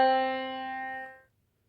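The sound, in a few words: ascending major third interval played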